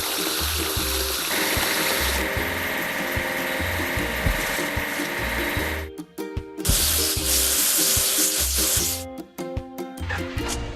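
Water spraying in a kids' truck building video game, a steady broadband hiss of washing that fills the clip at moderate loudness, cut by brief gaps and bright game sound effects with short tonal music notes running underneath.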